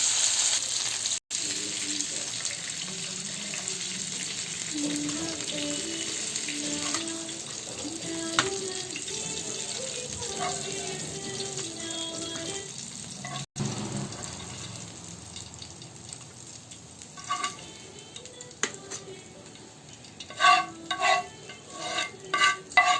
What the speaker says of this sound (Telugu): రూప్చంద్ ఫిష్ ఫ్రై ముక్కలు ఫ్రై అవుతున్నాయి ఫ్రై కర్రీకి